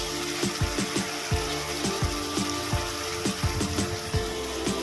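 Ginger-garlic spice paste with ground coriander, chilli and turmeric sizzles steadily in a pan, a dense frying hiss broken by irregular soft pops and stirring clicks, close and continuous with no talking.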